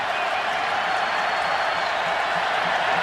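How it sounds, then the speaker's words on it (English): A stadium crowd at an Auburn college football game roars steadily, a broad, continuous wash of cheering and applause from a large audience, with no distinct breaks. "Crowd is jumping here in Auburn."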